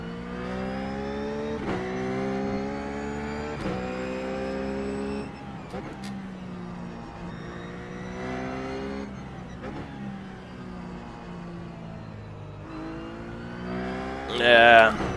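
A Ruf race car on the Zandvoort circuit in iRacing, its engine droning at full throttle with rising harmonic pitch, repeated gear shifts and lifts, and a brief tyre squeal near the end.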